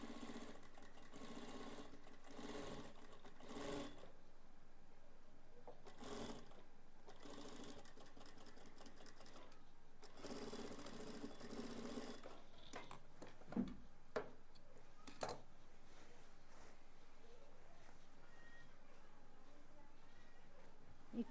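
Sewing machine stitching over gathered pleats on a ghaghra waistband, a steady close whirring run with short pauses and a few sharp clicks near the end.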